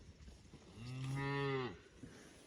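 A single long, drawn-out cow moo rises and fades, fairly close, over quiet background.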